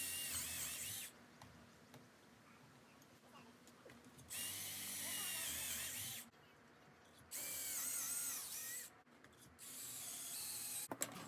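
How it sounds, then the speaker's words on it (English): A power drill bores dowel holes into wooden chair legs in several separate bursts of a few seconds each, loud and close, with quiet pauses between them. "So here I'm just drilling some holes for the dowels."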